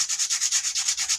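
Someone sands the surface of a ball peen hammer with quick, rhythmic back-and-forth rubbing strokes, about ten hissing passes in close succession, loud and near.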